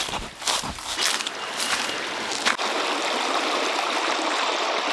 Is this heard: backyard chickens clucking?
no